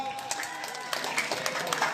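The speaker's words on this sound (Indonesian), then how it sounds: "Beri tepuk tangan sekali lagi dong." An audience at a school oratory competition claps in a short burst of applause that stays fairly loud and dense for two seconds.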